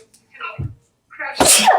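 A single sharp sneeze bursts out close and loud at the end, following a few quiet words of speech.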